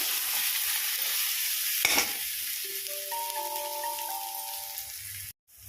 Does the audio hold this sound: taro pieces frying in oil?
yes